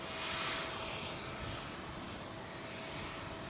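An old Airbus A330 departing overhead from runway 09R at London Heathrow, a faint, distant, steady engine roar that swells slightly and then holds, with no voices.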